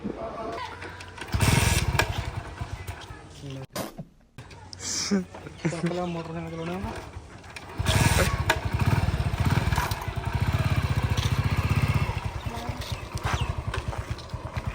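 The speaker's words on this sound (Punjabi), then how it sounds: "ਮੋਟਰਸਾਈਕਲ" A motorcycle engine runs through most of the stretch, a buzzing idle and revving that rises loud in the middle and later passages, with people talking over it at times.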